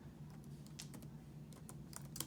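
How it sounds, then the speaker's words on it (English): Keys clatter on a computer keyboard in quick irregular bursts over a low steady hum, typing a short search phrase into PowerPoint's image search; nobody speaks. "I'm going to type in"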